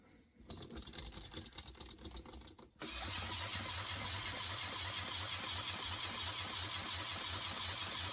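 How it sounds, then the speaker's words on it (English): A pneumatic cylinder drives a 40-tooth gear mechanism, first with a quick run of sharp, rapid ratcheting clicks, then a sudden switch to a continuous, steady hiss of air that carries on to the end. "One pneumatic cylinder with this 40-tooth gear."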